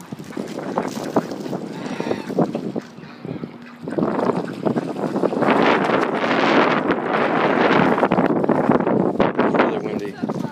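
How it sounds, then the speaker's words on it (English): Strong outdoor wind buffets the microphone with continuous rumbling gusts that swell louder in the second half, while voices and occasional honking geese are heard under the roar. "It's really windy."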